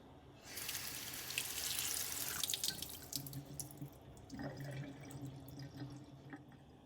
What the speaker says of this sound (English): When using reusable filters like this, it's usually a good idea to get it nice and wet first.